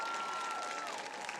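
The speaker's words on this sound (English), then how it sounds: "let's give them another big round of applause for that amazing performance" A crowd applauds at a varsity high school football game after a band performance, a steady, moderately distant wash of clapping with faint crowd noise and brief whistle-like tones.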